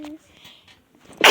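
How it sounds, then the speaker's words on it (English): A single sharp, loud sneeze bursts out at the very end, cut off abruptly, after a stretch of quiet, faint background sounds. "Don't ever sneeze like that."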